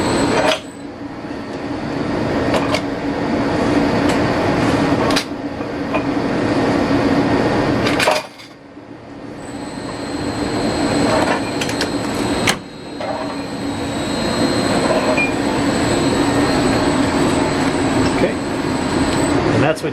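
A 3B capping machine runs continuously while applying screw caps, giving a steady mechanical whir with a high whine. The sound briefly drops out twice, and talking is heard over it.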